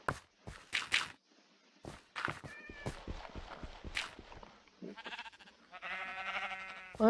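Several short bleats from a grey sheep in Minecraft on a skyblock island, mixed with game footsteps and clicks, fairly faint and alone without talk.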